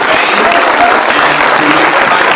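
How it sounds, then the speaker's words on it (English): Loud, dense applause fills a convention hall during an Anime Expo gravure panel, a continuous roar of many clapping hands close by with faint crowd murmur beneath. "Can we give a round of applause to Faye"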